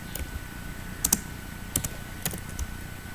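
A computer keyboard is typed on at close range while an HTML page is being written, producing sparse, irregular clicks and small bursts of keystrokes against a quiet background.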